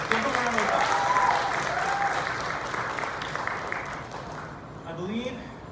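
Audience applause after a show, a dense wash of clapping at full strength that slowly tapers toward the end, with a voice speaking faintly over it.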